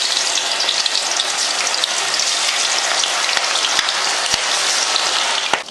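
Soaked chilli frying in hot oil, a steady loud crackling sizzle throughout with a few sharp pops, no talking.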